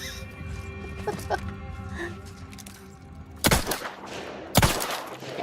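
Gunshots from a first-person shooter video game, The Outer Worlds 2, crack out as two loud, sharp bursts over a busy game soundtrack and background ambience.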